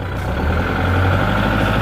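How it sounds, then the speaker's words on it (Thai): A Kubota L4708 tractor runs its rear PTO rotary tiller in the rain. The engine drones loud, steady and close, with a constant mechanical hum and no pauses. "ท้ายปั่นปกตินะครับเขาท้ายทำงานปกตินะครับ"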